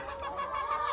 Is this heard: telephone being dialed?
no